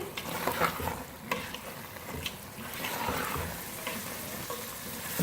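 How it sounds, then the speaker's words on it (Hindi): Spinach and mutton stir-fry over a medium flame, a loud, busy sizzle with wet bubbling and constant clattering scrapes of a spoon against the pan, continuing without any talk. "पालक और गोश्त को हमने मीडियम फ्लेम पे अच्छी तरह से भून लिया"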